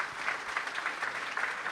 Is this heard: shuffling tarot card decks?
no